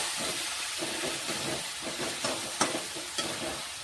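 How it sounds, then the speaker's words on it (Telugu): Curry paste for a simple aloo curry sizzles and fries in a pan, a continuous soft hiss with occasional stirring scrapes and small pops, close by and with no talking. "పచ్చి వాసన పోయేంత వరకు కాసేపు ఫ్రై చేయాలి."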